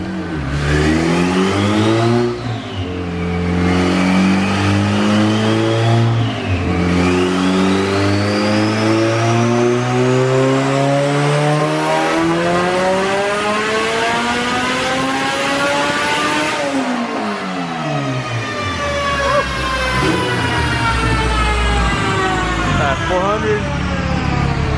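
A 500hp turbocharged Honda hatchback revving hard on a dyno: loud, sustained engine roar climbing through the gears in repeated sweeping pulls, with a high whine rising over it and a brief drop between shifts.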